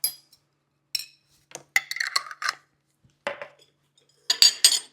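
Spoon and small dish clinks while garlic is measured for a vegetarian chili made from food storage items: a series of short, sharp metallic taps and scrapes in separate bursts, close and fairly loud, with no talking.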